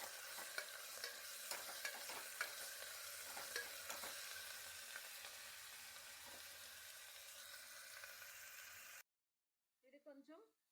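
Ginger garlic paste fries in a pan over browned onions for a chicken curry, crackling and sizzling continuously with scattered stirring scrapes, then the sound stops and a voice speaks briefly.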